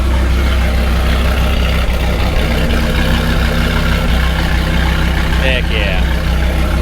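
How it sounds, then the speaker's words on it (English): A Dodge Viper ACR idles with a deep, loud, steady exhaust rumble close by while someone speaks briefly over it. "engine super quiet, no valve train noise, no anything, but the exhaust, that is not super quiet."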